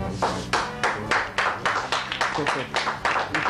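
Audience applause in a TV studio, a steady run of rhythmic hand claps, fairly close and moderately loud, lasting a few seconds.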